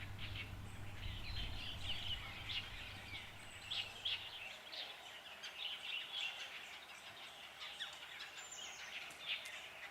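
Birds sing in a forest with scattered high chirps and tweets at moderate distance, a quiet ambience with a low hum fading out partway through.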